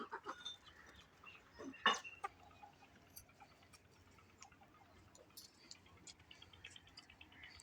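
Hens clucking in a chilly rural village yard as they are let out to be fed bits of roti, with a few faint scattered clucks and one brief louder call over quiet background.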